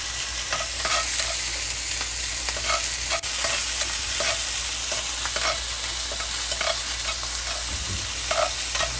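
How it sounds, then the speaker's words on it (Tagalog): Shrimp sauté in a hot pan while being stirred, a steady loud sizzle broken by regular scraping strokes of the utensil, close and continuous with no talking. "At igisa natin ang hipon hanggang sa magbago ang kulay."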